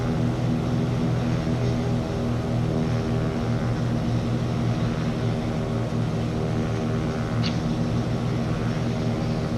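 Propeller aircraft in Microsoft Flight Simulator 2024 landing at Brookings, a loud, continuous droning engine hum with a steady buzzing tone throughout.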